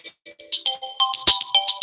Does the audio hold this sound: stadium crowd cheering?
no